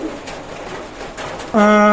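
Pigeons at a pigeon loft coo with low, throaty calls, growing loud and steady near the end over a faint background murmur.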